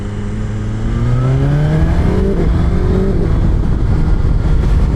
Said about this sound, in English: I'm just shifting up the gears like nothing, and it's just going.